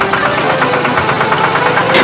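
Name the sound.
tractor engine ploughing fields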